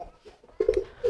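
A homing pigeon gives a brief, soft coo at close range, a few low throaty pulses over about a second.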